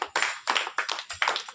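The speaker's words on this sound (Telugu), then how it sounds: "ఒక్కసారి చప్పట్లు కొట్టి ముగించేసుకున్నాను" A person claps by hand at the end of a prayer. Several sharp, close claps come in a quick, even rhythm, with no talking.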